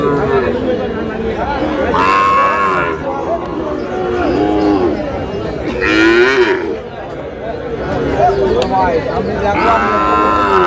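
Sahiwal cattle bulls mooing repeatedly amid a busy crowd at a livestock market, several loud calls rising over constant chatter and market noise.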